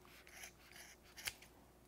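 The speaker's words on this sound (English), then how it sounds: "use a scissors to cut" Scissors snip through yarn loops for a pom-pom, making several quiet crisp cuts with one sharper snip near the end, close-up and faint, with no talking.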